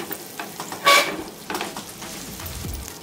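Two spoons of butter fry in hot oil in a pan, with a soft sizzle, a sharp hiss burst near the start, and light stirring clatter, close and brief.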